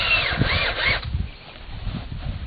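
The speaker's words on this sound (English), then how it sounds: "I just simply put a couple of Tek screws down into the surface of the log." A power drill drives Tek screws into the surface of a sawn log slab, a brief high whining squeal of the bit biting in for about a second, then trailing off into low rumbling handling noise, close and fairly loud.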